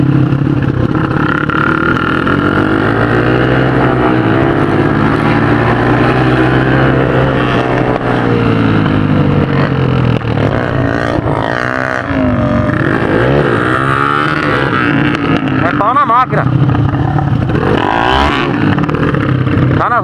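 A Honda CG motorcycle with an oversized camshaft revs hard and continuously at close range, its engine note rising and falling with a slight misfire stumble, loud throughout with a brief dip near the middle.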